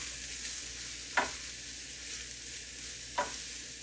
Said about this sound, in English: then we will add our veggies and begin to stir fry those down